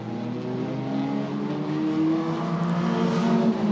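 Race cars on track at QLD Raceway, a loud steady engine roar as the cars come onto the main straight, with a sustained whirring drone that rises slightly toward the end.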